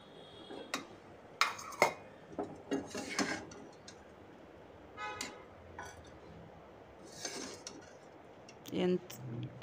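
Bitter gourd and onion chili curry scraped from a pan into a serving bowl, with scattered clinks and taps of a spoon against metal and dishes, irregular and fairly close, over a quiet kitchen background.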